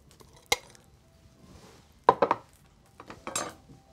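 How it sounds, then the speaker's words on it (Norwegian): A metal spoon clinks and scrapes while digging stuffing out of a whole roast turkey in a kitchen, with a sharp knock, then a quick cluster of scraping taps and a few softer clatters, no talking. "Den graver jeg ut med en skje."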